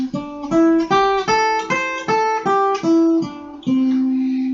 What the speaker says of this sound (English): So the pentatonic major scale sounds like this.